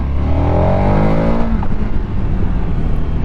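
A KTM 1290 Super Adventure S engine revs hard and climbs in pitch, then settles into a rough, throaty rumble, loud and close.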